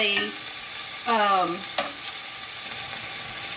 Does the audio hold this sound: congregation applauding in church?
no